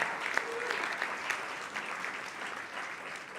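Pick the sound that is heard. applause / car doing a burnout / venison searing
applause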